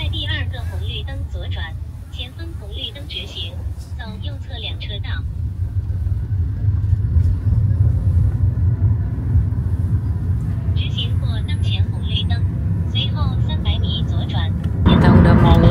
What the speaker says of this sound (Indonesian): Suasananya benar-benar macet ya.